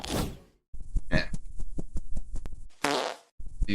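Farting bird effects from a Godot video game: a buzzy fart burst, then a run of rapid sharp clicks and pops, two more fart blasts with clicking between, close and unaccompanied.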